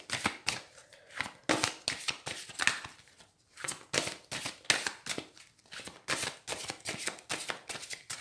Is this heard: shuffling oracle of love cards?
yes